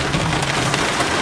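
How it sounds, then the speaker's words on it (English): Heavy rain pours down during a thunderstorm in Florida. It makes a dense, constant roar of drops on surfaces, loud and close, with no speech. "There is a strong rain core."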